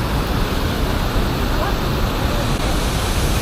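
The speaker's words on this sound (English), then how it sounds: "Look at the waterfall!" A waterfall in Yorkshire near Huddersfield, in icy freezing conditions, gives a steady, dense broadband rush that stays loud and constant throughout with no breaks.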